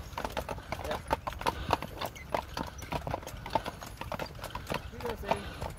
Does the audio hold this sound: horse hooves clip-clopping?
yes